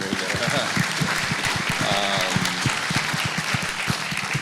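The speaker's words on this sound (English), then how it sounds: "that's worth a round of applause, I think." An economic summit audience applauds with dense, continuous clapping that fills the room, steady and fairly loud throughout.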